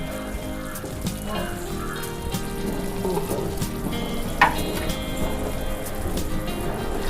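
Ghee poured a little at a time into a gram flour mixture cooking for Mysore pak, giving a steady, close sizzle with dense crackling and a brief sharper spatter midway; no talking.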